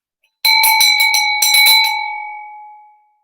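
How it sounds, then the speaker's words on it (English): A bell is rung to call someone at home on Christmas Day, a rapid burst of loud, bright clanging strokes followed by a second burst, then a long ringing tone that slowly fades out. "Let's try the bell."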